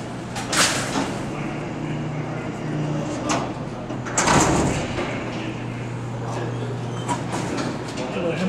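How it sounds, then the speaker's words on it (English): Heavy freight elevator door in a former mall sliding shut, a long rumbling, rattling slide with a clunk near the middle, heard over a low hum while people talk nearby. "at least get the door shut."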